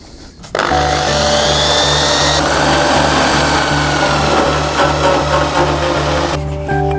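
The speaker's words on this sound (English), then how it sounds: "I have to drill a hole now in the zinc gutter and then solder it in" A loud power drill whines steadily for several seconds with a strong, constant motor hum, boring a hole in a zinc gutter, starting abruptly and cutting off near the end.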